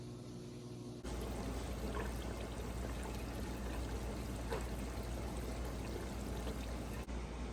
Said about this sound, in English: So now I get to get the rest of the garlic ready to be put in some vinegar.